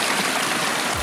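A backyard koi pond waterfall runs steadily, a close, continuous wash of splashing water with no breaks, filling the whole second at an even level.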